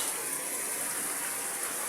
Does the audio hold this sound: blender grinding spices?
no